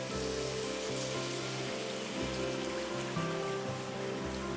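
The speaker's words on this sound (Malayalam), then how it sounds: "ഇതിലേക്ക് ഇങ്ങനെ 1 കപ്പ് പാല്, ഏകദേശം ഒരു 1/2 ലിറ്റർ പാൽ ഒഴിച്ച് കൊടുക്കാം." Milk is poured into a hot pan for Alfredo pasta, making a continuous soft hiss and patter of liquid over a steady low hum, faint and unbroken throughout.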